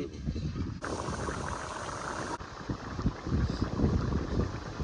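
Steady wind blows hard into the microphone outdoors, a continuous roaring rush with low buffeting gusts.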